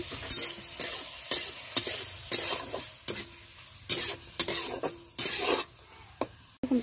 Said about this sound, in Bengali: চিংড়িটা ভাজার জন্য।